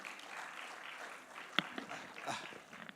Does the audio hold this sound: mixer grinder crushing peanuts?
no